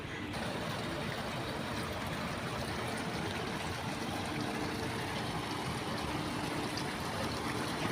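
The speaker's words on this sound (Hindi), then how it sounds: "यहाँ पे एक पानी की आवाज़ आ रही है, यहाँ पे जाके देखते हैं।" Water flows steadily outdoors in Dubai, a dense unbroken rushing and trickling like a fountain or stream, moderately loud and constant throughout, with no voices.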